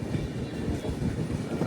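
The Puri–Tirupati express train passes near a road-cum-rail bridge, heard from aboard another moving train as a steady, heavy rail rumble, continuous and fairly loud, with no talk.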